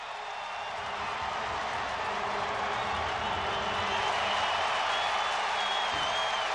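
A stadium crowd roars steadily after Alexi Lalas scores for the USA against Russia in a 1994 friendly: a dense, unbroken wall of cheering and clapping that swells slightly toward the end.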